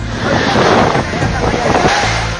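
Strong floodwater current after a landslide in a Manipur village, a loud broadband rushing roar with gusty wind buffeting close to the microphone throughout.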